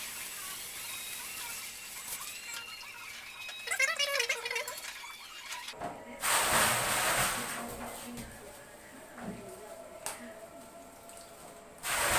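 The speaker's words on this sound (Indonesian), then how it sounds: "kita siram pakai air" Water being poured over boiled soybeans during tempeh making, with soft splashing and trickling that builds into louder rushing bursts, mixed with handling noises.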